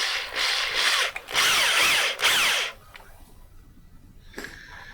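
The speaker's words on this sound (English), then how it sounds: "that's the benefit of a step bit, because 3/4 inch drill bit would actually be huge" A power drill fitted with a step drill bit bores into material in two loud, close whining bursts with a brief pause between them, then cuts off, leaving quiet room noise and a small click.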